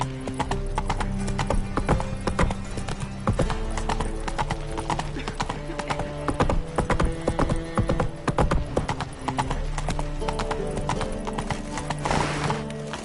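Horse hooves clip-clop in a steady galloping rhythm, close and loud, with occasional whinnies over a music score, inside The Witcher 3: Wild Hunt.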